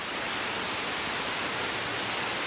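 Water flowing inside a cave: a steady, dense rushing hiss that fills the whole clip at constant level, like a nearby stream or small waterfall, with no voices.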